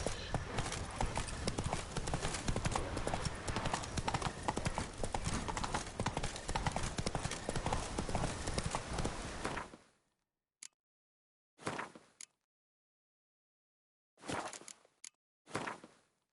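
Hooves of the horse Roach clip-clopping in a steady trot in The Witcher 3, loud and close for about ten seconds, then cutting to silence broken by a few short bursts of hooves.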